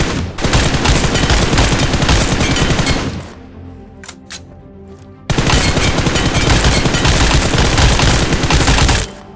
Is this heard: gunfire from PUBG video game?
yes